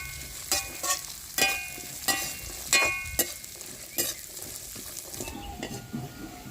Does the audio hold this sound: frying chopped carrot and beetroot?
yes